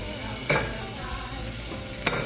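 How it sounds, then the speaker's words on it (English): Hennessy hitting a hot pot and being stirred while cooking Hennessy chicken and waffles, giving a steady close frying hiss with two short louder bursts as liquid goes in, no voices. "Hear that sizzle?"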